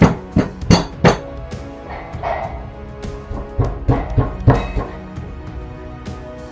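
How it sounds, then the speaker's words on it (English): Ginger being pounded by hand for homemade cough syrup, a run of sharp, close thuds in an uneven rhythm with some clinking of the pot or bowl. "The ginger, just start pounding it like this."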